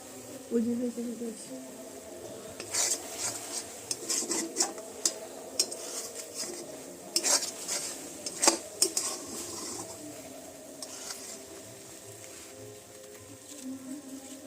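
Jaggery filling for bhapa pitha is stirred in a pan, giving intermittent scraping, rubbing and clinking of the utensil against the pan. The strokes come in irregular bursts, louder in the first half, with soft speech and background noise underneath.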